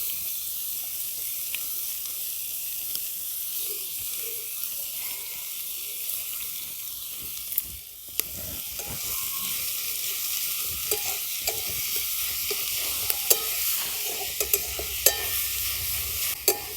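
Grated mixed vegetables with ginger fry in a hot pan while being stirred, a steady close sizzle broken by repeated scraping stir strokes, briefly dipping midway before the frying resumes.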